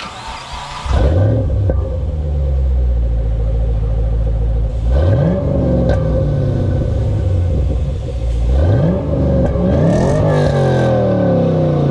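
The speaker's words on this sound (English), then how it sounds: "It's a Flowmaster Axleback exhaust system." A Chevrolet Camaro SS fitted with headers and a Flowmaster axle-back exhaust rumbles steadily up close, with several rising revs spaced a few seconds apart over a deep, continuous burble. No one speaks.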